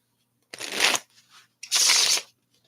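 Tarot deck shuffled in two short, crisp riffling bursts, close and clear, separated by a brief quiet pause.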